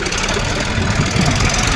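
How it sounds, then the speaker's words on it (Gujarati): A tractor engine runs loud and close, a steady rough knocking idle-like rumble throughout, with no voices. "ટ્રેક્ટર ખતરનાક ચાલવે છે હમણાં, હાઈફાઈ ટ્રેક્ટર"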